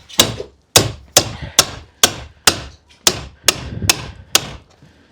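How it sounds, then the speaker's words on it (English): Ten loud, sharp hammer blows land at a steady pace, each ringing briefly before the next, close up with no talk, during workshop construction. "Can I hammer that up or something?"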